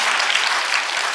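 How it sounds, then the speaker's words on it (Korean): Church congregation claps for the kindergarten Sunday school department at a Korean early-morning service, a brief burst of dense, loud applause from many hands. "자, 우리 박수 한번 해주세요."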